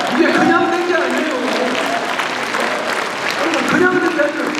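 Audience applause at a Nonsan city citizens' dialogue town meeting, a steady wash of clapping that swells and fades, with a voice talking over it at the start and again near the end.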